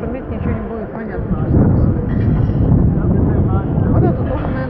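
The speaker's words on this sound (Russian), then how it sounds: "Ветер сейчас, наверное, будет шуметь, ничего не будет понятно." Heavy wind buffets the microphone outdoors in Brescia, Italy, with a low, roaring rumble that swells and stays loud, and a voice speaks underneath it.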